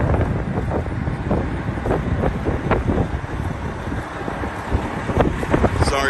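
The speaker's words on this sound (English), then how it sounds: "Sorry for the wind, it's a little windy today." Gusty wind buffets the microphone outdoors beside a CAT 740 articulated haul truck, a steady low roar with rising and falling swells across the whole stretch and no clear voices.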